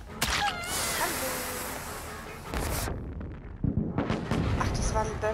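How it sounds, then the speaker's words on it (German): Firecrackers bang in a game of Dead by Daylight: a loud burst of sharp cracks in the first seconds, a short lull, then another rapid volley of pops close by, with faint voices in the gaps. "Ach, das waren Böller."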